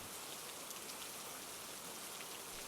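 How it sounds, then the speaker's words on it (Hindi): Steady village rain falls heavily and evenly, a dense unbroken hiss of drops on surfaces, close and constant throughout with no voices. "माधोपुर में बारिश लगातार बरस रही।"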